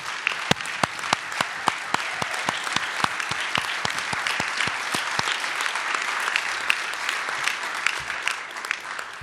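Ongoing applause from a banquet audience honoring baseball scouts, many hands clapping in a thick steady wash, with several loud, crisp individual claps close by standing out at regular intervals.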